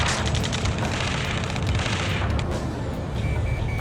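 Dense, continuous gunfire and booming explosions from a ground battle in the video game Ace Combat 7, a loud unbroken barrage with no pauses throughout.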